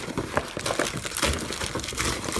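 Mystery card packs shuffled around inside a nearly full box make a close, irregular rustle of crinkling foil wrappers, with quick scraping bursts that come and go in uneven clumps and no one talking.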